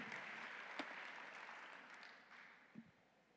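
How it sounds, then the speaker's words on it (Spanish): A church congregation gives a sustained round of applause, a soft, even wash of many hands heard at a distance and gradually fading, with no talking over it. "¿Cuántos pueden darle un fuerte aplauso al Señor?"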